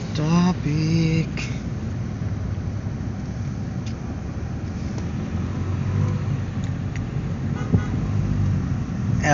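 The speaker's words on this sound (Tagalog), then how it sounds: "Traffic." Congested road traffic rumbles steadily with heavy-duty vehicles and full parking, a car horn tooting twice near the start and faint engine noise throughout, under a busy outdoor background.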